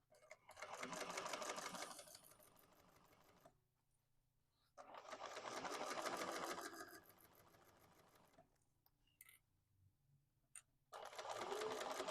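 A sewing machine topstitches an Isabella Tote in three long, steady runs of rapid stitching nearby, with quiet gaps and small clicks between runs.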